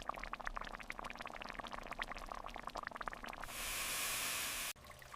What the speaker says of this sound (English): You pour broth slowly into the pot. The soup comes alive with a gentle bubbling sound.